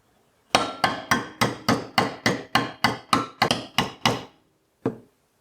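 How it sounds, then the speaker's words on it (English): A hammer drives a bolt into a bent metal bread holder made for a Firebox stove: about a dozen sharp, ringing metal strikes in an even rhythm, close and loud, then one last isolated blow after a short pause. "I'm going to put it in and then hammer it down."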